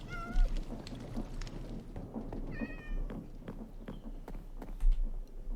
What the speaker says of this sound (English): Is there a cat in here somewhere?